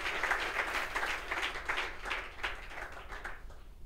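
A church congregation claps and applauds in praise of the Lord, a steady, fairly loud wash of many hands with gently pulsing swells that slowly fades toward the end.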